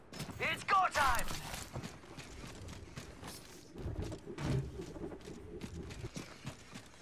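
Weapon reloading in Apex Legends, a few quick mechanical clicks and clacks of magazine handling near the start, followed by softer gear rustle and thumps amid game noise, with a voice talking over part of it.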